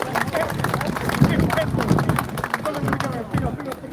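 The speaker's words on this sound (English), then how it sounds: "Give him a round of applause" Crowd applause at an outdoor protest in Braintree and Wethersfield: dense, sustained clapping with bursts of cheering and a murmur of voices throughout, fairly loud and close.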